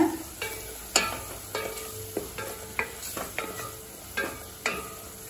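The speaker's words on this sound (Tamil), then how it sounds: "ஒரு நிமிஷம் வரைக்கும் நல்லா வதக்கிக்கலாங்க." Tomatoes and spices are sautéed in a pan for a peanut kuzhambu: a steady soft sizzle runs beneath regular close scrapes and clinks of a spoon stirring against the pan, about every half second.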